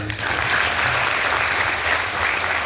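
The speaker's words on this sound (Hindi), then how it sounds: "ताली बजाइए" Audience at the sixth Rashtramata Jijau award ceremony, held by the Shri Chhatrapati Shivaji cooperative society, applauds in a steady, dense wash of clapping that fills the hall throughout with no break, with a faint low voice beneath it.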